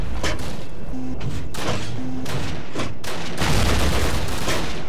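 Gunfire from the Call of Duty PC campaign mission to save London Bridge, a run of loud close shots and thuds with brief pauses, a heavier burst near the end, no voices.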